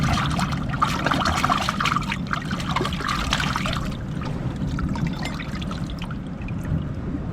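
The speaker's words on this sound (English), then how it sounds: "And then I'm just going to wash it in the Tide pool." Fish being rinsed in a rocky Big Island of Hawaii tide pool, with steady trickling, sloshing water close by, fuller splashing for the first few seconds and then a softer, continuous wash without speech.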